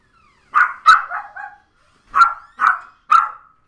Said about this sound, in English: This dog is just going nuts.